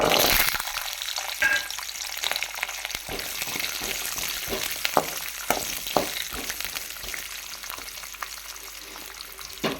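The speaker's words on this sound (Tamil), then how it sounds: "பொரிஞ்சு வரட்டும் பொறிஞ்சிடுச்சு இப்போ நம்ம நெல்லிக்காய் ஆட் பண்ணிக்கலாம்" Grated amla sautéing in oil with mustard seeds and urad dal makes a continuous close sizzle with frequent crackles and pops, plus occasional stirring scrapes throughout.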